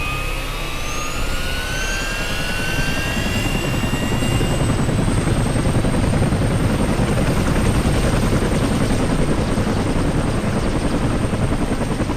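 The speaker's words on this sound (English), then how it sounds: "Fire up the chopper." A video game helicopter engine spooling up, a rising turbine whine climbing in pitch over several seconds and settling into a loud, steady rotor and engine roar that fills the whole stretch.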